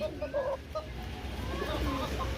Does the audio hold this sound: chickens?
yes